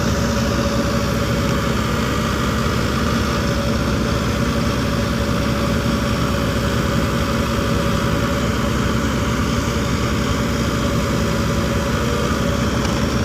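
A heavy Hitachi excavator diesel engine drones continuously at a steady idle close by, with a constant low rumble and vibration.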